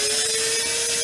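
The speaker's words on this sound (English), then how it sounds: "so I'm going to drill through it" A power drill bores into the hollow plastic roof channel of a Club Car Precedent golf cart, a loud, steady whining grind with a constant tone throughout.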